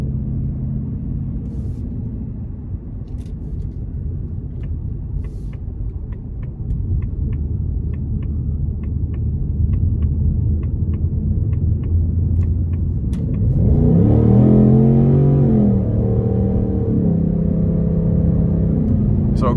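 A 2024 Ford Mustang GT Premium with a 5.0 V8, in normal mode, rumbles at a steady idle-like drone before the engine note swells into a louder, rising pull midway through, heard from inside the car.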